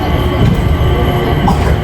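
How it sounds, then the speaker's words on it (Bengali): Riding a metro train in Singapore near an airport terminal: a loud steady rumble and roar of the carriage in motion, with a high whine over it, brief and continuous. "আমরা এখন মেট্রো ট্রেনে জার্নি করতেছি"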